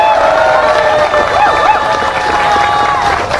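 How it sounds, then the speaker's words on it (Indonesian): An audience at a political talk in Indonesia claps and cheers loudly and continuously, with whoops and shouts rising over a dense wash of applause. "Ayo yang belakang tuh tepuk tangan yang keras"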